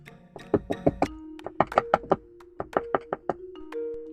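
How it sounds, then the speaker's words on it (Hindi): Loud, rapid knocking on a door at night in a colony of small houses, struck in quick uneven bursts of several hard raps with brief pauses between, close and alone without any voices. "वहां पहले ही घर में उसने जोर जोर से दरवाजा खटखटाया।"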